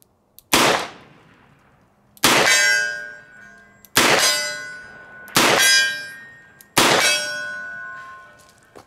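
Five loud, ringing metallic clangs from S&W Model 19 revolver rounds striking steel targets at 35 yards, spaced about one and a half seconds apart, each with a long bright decay and no talking.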